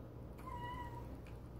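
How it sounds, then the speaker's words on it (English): A house cat gives a single clear meow at close range, drawn out with a slight rising-then-falling tone, over a quiet room hum. "Oh, that's not in the game. That's my actual cat."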